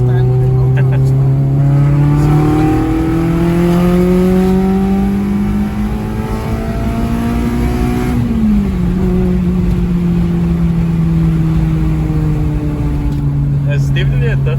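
A Honda Civic Type R FN2 with a K-series engine revs in long, rising and falling sweeps, loud and steady throughout, as people talk over it nearby.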